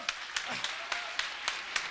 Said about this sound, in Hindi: इन लोगों के लिए एक बार जोरदार ताली होनी चाहिए दोस्तों